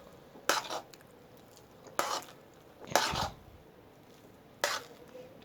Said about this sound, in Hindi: अभी इसको थोड़ा सा और भूनना है